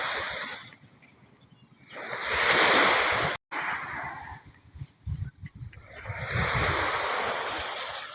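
Sea waves rolling onto a shore, rising in two long washing surges with a quieter lull between, mixed with gusty wind buffeting the microphone.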